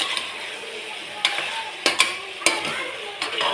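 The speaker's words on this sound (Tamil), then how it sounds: "நான் கொஞ்சமாக குழம்பு மிளகாத்தூள் போட்டிருக்கேன், அதையும் போட்டு பரட்டிடுவோம்." Chicken being stir-fried in a pan with a little chili powder: a soft, steady sizzle broken by several sharp scraping strokes of the spatula against the pan, close and moderately loud, with no talking.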